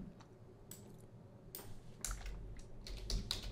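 Quiet keystrokes tap on a computer keyboard while code is typed, arriving in short irregular bursts of close clicks with no talking.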